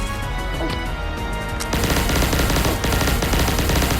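Neutron Pulsator gun firing rapidly in the video game Pixel Gun 3D, loud continuous bursts of shots with a short pause, close and dense.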